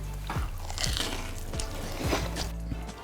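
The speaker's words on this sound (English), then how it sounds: "The crunch, that is so satisfying." Someone bites and chews a mushroom double cheeseburger made with crunchy giant puffball mushroom and Stilton, giving close, loud, repeated crunchy, squishy mouthfuls with faint wet sounds and no talking.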